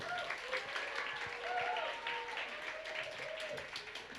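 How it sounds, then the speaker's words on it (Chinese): A church congregation applauds to welcome a group at a Sunday service; quiet, dense clapping from a distance runs throughout, while voices are heard over it. "我们热烈的掌声欢迎志豪小组"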